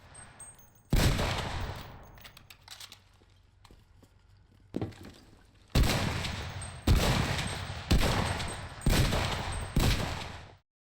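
Winchester rifle gunfire in a video game: a sharp report near the start, then a run of loud, closely spaced shots with ringing tails, separated by quieter clicks of the action being worked.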